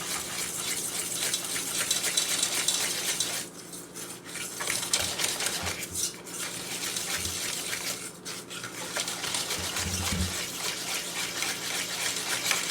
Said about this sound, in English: And I'm going to start whisking that in.